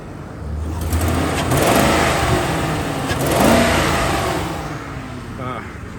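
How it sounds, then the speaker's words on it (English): A car engine with an exhaust leak revs up twice, rising and falling with a raspy, rattly exhaust note, loud and close. "give it a couple revs so you can hear it"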